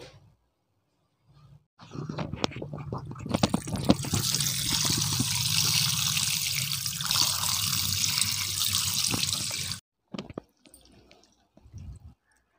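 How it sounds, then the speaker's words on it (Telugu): Boneless chicken pieces are washed in water in a sink, with running and splashing water swishing continuously for several seconds, then a few short drips and clinks as it stops. "ఇప్పుడు దీన్ని శుభ్రంగా 4-5 సార్లు శుభ్రంగా కడిగి వాష్ చేసుకుని పక్కన పెట్టుకోవాలండి"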